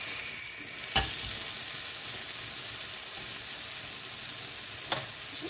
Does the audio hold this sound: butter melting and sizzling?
yes